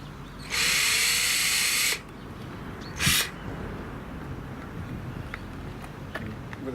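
Power drill driving self-tapping screws into the plastic of a trailer board on a bike rack, with two short bursts: a steady whirring run of over a second, then a brief second spin, followed by quiet background.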